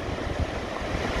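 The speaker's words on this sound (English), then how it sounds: "you can see the waves breaking on the rocks on that headland over there" Rough, powerful sea waves breaking against rocks on a headland, a brief wash of broadband surf roar mixed with wind buffeting the microphone, steady and distant-sounding with no voices.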